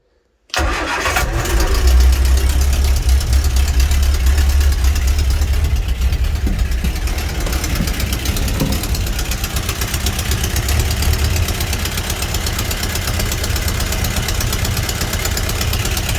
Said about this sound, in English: So we'll give it another start and see if it works